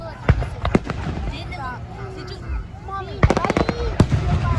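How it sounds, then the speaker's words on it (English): Outdoor Juneteenth fireworks pop and crack in a few clustered bursts, one early pair and a denser volley near the end, over background voices. "Aren't fireworks so beautiful?"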